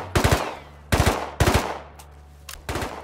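Gunfire in the video game Rust: four loud bursts of rapid triple shots spaced about half a second apart, close and sharp, with faint single pops between them.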